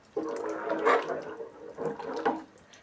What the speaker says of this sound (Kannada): ಇನ್ನೊಂಚೂರು ನೀರು ಸೇರಿಸ್ಕೊಳ್ಳೋಣ.